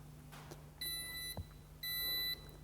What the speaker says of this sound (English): you will hear 2 beeps.